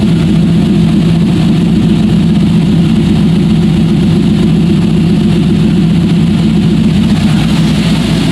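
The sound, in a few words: LS-swapped Porsche 944 engine running with original muffler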